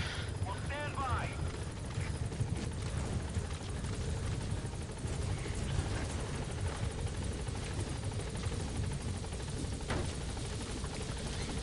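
A helicopter in Metal Gear Solid V gives a dense, steady rotor and engine roar that fills the whole stretch, with faint radio chatter early on.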